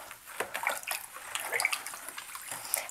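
Salt being stirred into a water dye bath for dip-dyeing a shirt, with soft, continuous sloshing and swirling of water at close range, steady and moderately quiet, with no talking.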